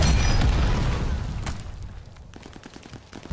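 A combat shotgun in the World War II video game Call of Duty: Vanguard fires one loud, heavy blast that rolls off into a long, fading echo, with a few faint pops trailing after.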